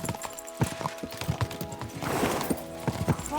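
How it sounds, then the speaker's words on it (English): Horses gallop in Kingdom Come: Deliverance 2, their hooves pounding in a quick, uneven clatter over a sustained musical tone and game ambience. "We should spur the horses on."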